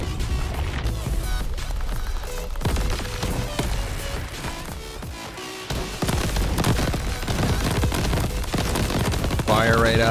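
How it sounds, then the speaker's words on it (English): Elemental explosions in the video game Crab Champions, a dense barrage of rapid bangs, booms and gunfire-like pops layered with game effects and music, continuous and loud, with a voice talking over parts of it. "Elemental explosions"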